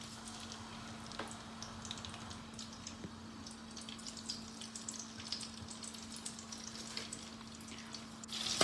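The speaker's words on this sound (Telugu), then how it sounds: "ఆయిల్ బాగా వేగిన తర్వాత జీలకర్ర, ఆవాలు అండ్ కొంచెం ఆనియన్ వేసాను. వేసి వాటిని ఎర్రగా అయ్యే వరకు కలిపాను." Cumin, mustard seeds and a little onion fry in hot oil for a brinjal curry, giving a steady, close sizzle with scattered small crackles and pops throughout. No one speaks.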